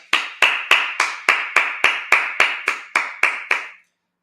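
A congregation at a Sabbath service claps in unison, about twelve sharp, evenly spaced claps at a steady brisk beat, each with a short ringing decay, then stopping abruptly.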